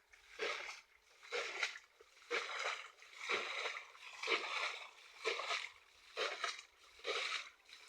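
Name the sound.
rowing a small boat on water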